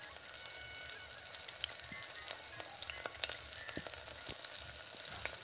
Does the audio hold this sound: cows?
no